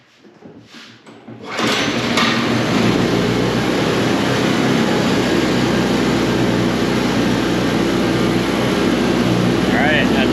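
A secondhand Coleman Powermate portable generator, freshly fuelled, catches and settles into a loud, steady engine drone after a brief quieter stretch, running continuously with a short voice at the start.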